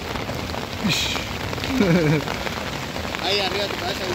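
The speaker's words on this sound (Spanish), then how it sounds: "Miren, está cayendo granizo." Steady rain-like patter of hail hitting surfaces during a storm while fishing, with people talking over it nearby.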